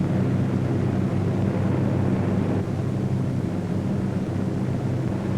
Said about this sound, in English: A formation of 18 B-17s was on its way to attack Rouen.